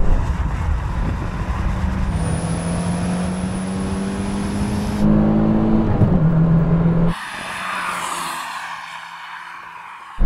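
A turbocharged Suzuki Jimny races an old-school 1980s hot hatch with an 8-valve engine in a drag race, engines droning and rising in pitch through the gears, with a gear change partway and loud wind rush near the end.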